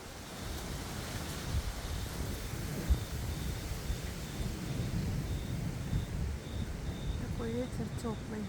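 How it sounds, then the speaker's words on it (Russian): Distant thunder rumbling during a thunderstorm, low and muffled under steady warm wind noise, with a brief louder crack partway through. "Гром и молния."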